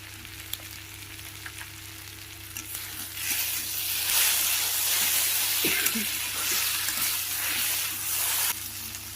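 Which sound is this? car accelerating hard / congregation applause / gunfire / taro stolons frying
taro stolons frying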